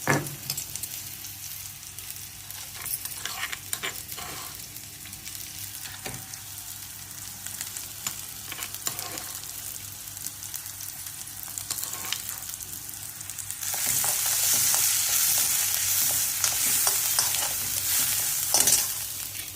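Chopped onion frying in a pan with turmeric and ground spice paste, a steady close sizzle with scraping stirs throughout that swells louder and brighter toward the end.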